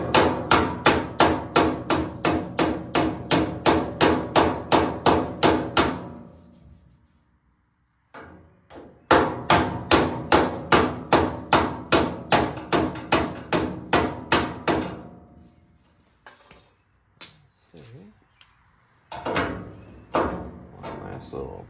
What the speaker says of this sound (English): now we'll just hammer and dolly that little dinkus that I caused